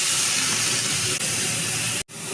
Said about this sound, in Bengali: এবারে একটা কড়ার মধ্যে খানিকটা তেল নিয়ে চিংড়ি মাছগুলোকে প্রথমে ভেজে নেব।